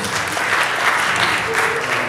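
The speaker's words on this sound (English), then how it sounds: "Let's give a round of applause for our good sister Rosa Clemente." Dense, steady applause from a large crowd, loud and sustained throughout with no pauses.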